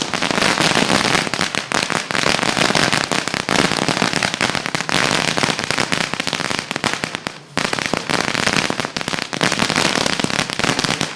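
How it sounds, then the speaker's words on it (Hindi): Fireworks and firecrackers burst at a Congress party's final-day campaign rally, a loud, dense, continuous crackle of rapid pops with one brief lull midway. "आतिशबाजी यहां पर होती हुई"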